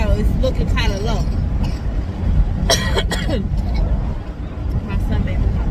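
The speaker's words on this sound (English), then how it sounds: "I'm probably not going to see a lot of this coughing" A short burst of coughing rises over a steady murmur of crowd chatter and road noise near a Sam's Club, with voices continuing around it.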